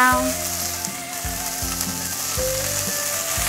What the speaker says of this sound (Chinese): 酸菜大约炒了1分钟左右，现在放入红甜椒